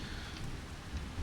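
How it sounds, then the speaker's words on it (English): Rain in Farming Simulator 25, a steady wash of falling rain with soft low rumbles underneath, continuous and fairly loud, with no voices. "the rain. That doesn't seem to want to go away."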